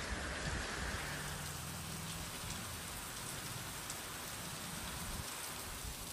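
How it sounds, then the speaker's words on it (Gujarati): Steady light monsoon rain falling over Savarkundla town in Amreli district, Gujarat, an even, continuous hiss of drops on surfaces with no break, heard alone at a fairly low level. "સાવરકુંડલા શહેર અને આસપાસના વિસ્તારોમાં પણ ધીમી ધારે વરસાદ વરસી રહ્યો છે"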